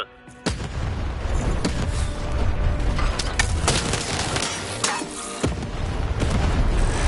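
Cannon fire in the video game Lost in Random, heavy booming blasts over a dense rumbling game soundtrack, with several sharp hits spaced through the passage.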